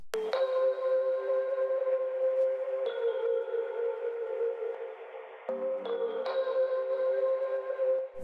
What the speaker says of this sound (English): I have this electric piano playing